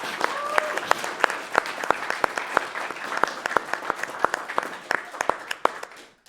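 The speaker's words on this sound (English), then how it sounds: "Let's give them a round of applause." Applause for the organizers of an RPG Limit Break speedrunning marathon finale, many people clapping steadily for several seconds with sharp individual claps standing out, a voice speaking partly over it before it tapers off.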